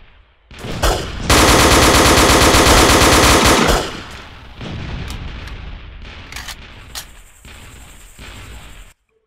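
MP40 submachine gun fire in the WWII shooter Iron Front: Liberation 1944, Omaha Beach landing mission, a loud sustained burst of rapid automatic shots followed by scattered distant gunfire and battle noise.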